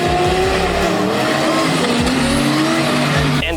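A Toyota Supra 2JZ six-cylinder powered mega truck races hard at a North versus South event, its loud engine note rising and falling with gear changes while tires squeal, close and continuous.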